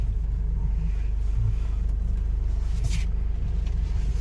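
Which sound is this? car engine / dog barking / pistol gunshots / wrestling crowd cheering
car engine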